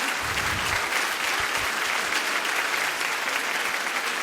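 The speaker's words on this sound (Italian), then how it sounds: "Allora un bel applauso per le amiche di Belleville che sono qua." Steady applause from a concert audience at a solidarity event in Tonara, Sardinia, sustained and dense throughout with no voices over it.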